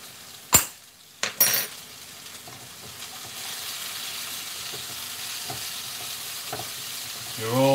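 Strips of garlic and ginger fry in a pan for crispy chilli beef, a steady close sizzle that follows a few sharp clinks of a utensil against the pan.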